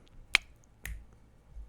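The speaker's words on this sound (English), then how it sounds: "That was me snapping my fingers in, kind of frustration." Two crisp, sharp finger snaps ring out alone in a quiet room, the first sharper and brighter, the second following about half a second later, with a soft low thump trailing after.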